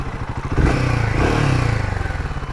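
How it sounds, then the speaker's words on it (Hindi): A Royal Enfield Himalayan 450 motorcycle rides along a road, its engine thumping in a steady, rapid pulse, with a louder revving swell early on and mechanical clatter over the continuous drone. "आज चलाएंगे हिमालयन 450 को"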